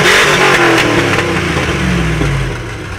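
A Hummer H2 with a Fabtech cut-out exhaust revs loudly and close up, giving a deep, rough roar that rises and then eases down over a few seconds.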